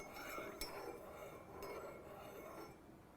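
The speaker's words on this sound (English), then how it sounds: "You can just stir it in." A spoon stirs honey into a cup of tea, giving two light clinks against the cup about a second apart over a faint, steady room hiss.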